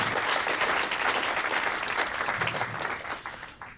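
A meeting audience breaks into a burst of dense, close clapping that holds steady and then starts to thin out near the end.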